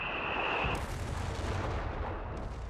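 Heavy mortar and LEIG artillery firing in the Company of Heroes 3 video game: a loud booming blast with a rumbling tail, close and without talk.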